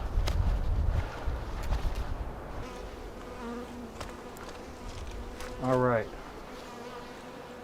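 Honey bees buzz around a hive during an outdoor inspection, a steady close drone with a brief louder pass from a bee near the microphone, while a person speaks briefly and moves around.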